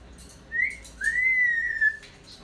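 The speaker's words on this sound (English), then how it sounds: "You're just whistling today." A yellow-naped Amazon parrot whistles two rising, sliding notes, a short one and then a longer sustained one. The whistling is clear and close, with no talking.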